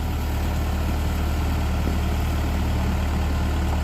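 A heavy 2003 diesel backhoe of just over nine US tons idles steadily up close, a constant low rumble with no breaks and no voices.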